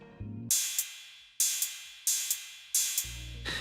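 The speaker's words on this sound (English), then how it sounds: "listen to what happens when I play the cymbal and right after that the closed hi-hat" A sharp cymbal crash rings out and keeps sustaining while a closed hi-hat ticks several times beneath it, the wash partly covering the shorter hits.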